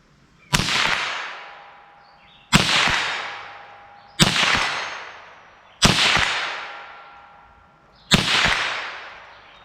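A .22 LR rifle fires Winchester Varmint X 40 grain rounds: five loud, sharp cracks, each with a fading tail, spaced evenly about two seconds apart, with no talking.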